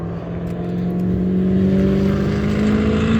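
A Corvette engine revs nearby at a car show, a loud, steady, deep rumble whose pitch slowly climbs as the revs rise, running continuously with no talking.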